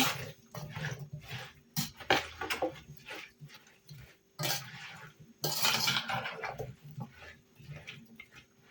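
Clinking and scraping of a spoon stirring cucumber pickle ingredients with mustard seeds in a bowl, in irregular bursts of clatter with brief pauses, close by.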